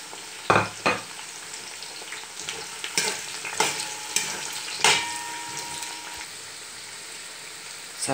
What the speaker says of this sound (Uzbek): Sabzini ham 5 daqiqa qovurib olamiz.